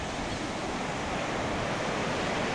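Gentle ocean waves wash onto a shore on a day with little wind, making a continuous broadband rushing hiss that stays close and even for a few seconds.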